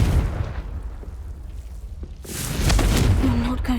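The Confringo blasting spell in Hogwarts Legacy, a loud booming explosion with crackling debris bursting out after a quieter stretch of game ambience and rumble.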